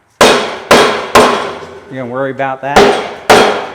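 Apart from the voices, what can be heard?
hammer beating on an object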